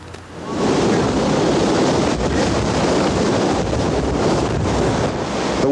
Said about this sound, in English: The waves on Pensacola Beach this afternoon were at 10 to 12 feet and getting larger.